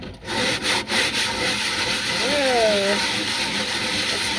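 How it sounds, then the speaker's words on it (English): A scrubby rubs back and forth across an air fryer basket, making a gritty, rhythmic scraping that runs steadily with a brief voice over it. "I am going to scrub it with the scrubby."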